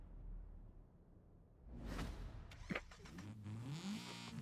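A Mazda Miata in Forza Horizon 5 pulling away after a quiet start, its engine whooshing up and revving higher as it accelerates.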